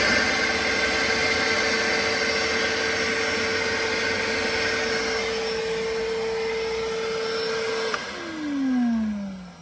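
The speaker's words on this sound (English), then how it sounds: "In case you're wondering why we're using a vacuum to pull the power wires and stuff out." Vacuum cleaner sucking wire slivers out of a blown car amplifier, with a loud, steady whine that holds for about eight seconds, then drops in pitch as the motor winds down.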